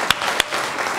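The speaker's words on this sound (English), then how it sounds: "but yes, you can applaud" An audience at a public event about New York City high schools applauds, a dense steady wash of clapping with a couple of louder individual claps standing out.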